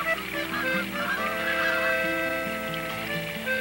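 Several Canada geese honk continuously in a noisy chorus, fairly close, with overlapping calls.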